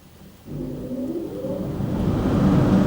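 A Ryko Premier XL car wash dryer at a Mobil station in Paremata, Wellington, switches on about half a second in as a loud, steady low roar of blowing air that builds and holds to the end, with no talk.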